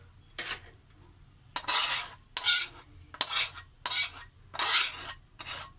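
Minced meat being stirred into ghugni in a pan: about six rhythmic scraping strokes of a utensil against the pan, close and fairly loud, with short quiet gaps between them and no voices.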